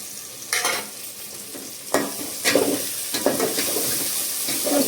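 Khichdi ingredients frying and being stirred in hot oil, a steady sizzle with repeated scraping strokes of a spoon through the pan, close and fairly loud, no talking.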